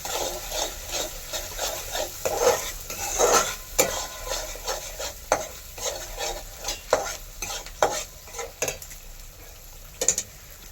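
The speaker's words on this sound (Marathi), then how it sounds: "तुम्ही बघू शकताय मसाला आपला चांगला फ्राय झालेला आहे" Masala of red chilli powder and turmeric frying in a pan over a wood-fired stove, with a continuous sizzle and a busy rhythm of scraping, rubbing stirs close by, no speech.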